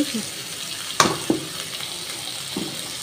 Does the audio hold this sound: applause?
no